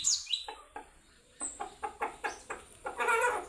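Chickens cluck in a quick series of short, close calls, a higher squawk near the start, with no voices.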